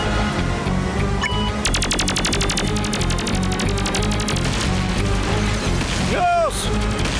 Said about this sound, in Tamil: பாத்துலு ஃபயர் பண்றோம்